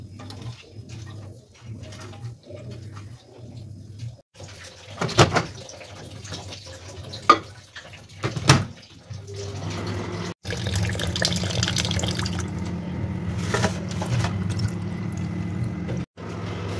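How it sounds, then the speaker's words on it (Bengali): Tap water runs into a water bottle and a bowl for instant noodles in a home kitchen, with splashing and pouring that starts and stops, clattering handling noises, then a sustained steady fill. "এই যে জলের বোতলে জল ভরবো, ম্যাগির বোলেতে জল ভরবো।"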